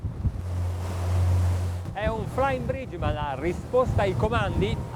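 An Azimut 54 flybridge motor yacht cruising at 28 knots and 2,100 rpm: a rush of wind and water over a low, steady engine drone, then someone talks over the running boat for most of the clip.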